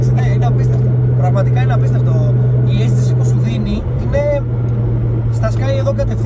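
An 1100 hp time attack Nissan GTR drives on a public road, its engine droning steadily and loudly up close while people talk over it inside the car.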